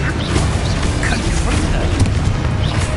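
A Confringo fire-blast spell goes off in a video game with loud, booming bursts and crashing blasts. The explosions come in rough succession, near and forceful, with faint vocal sounds mixed in.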